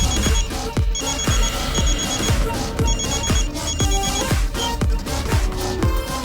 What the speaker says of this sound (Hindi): चिंटू भैया का फोन।